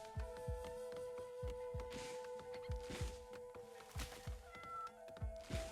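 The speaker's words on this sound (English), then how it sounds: "Aw, we have a kitty." A cat in the colony game Rimworld meows repeatedly against a steady hum, the cries mixed with a regular pattern of soft low thumps like footsteps, close and moderately loud.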